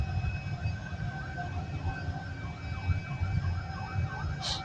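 A wailing fire truck siren sweeps up and down repeatedly over a rumbling engine and traffic noise on a Quezon City avenue, fairly close and continuous.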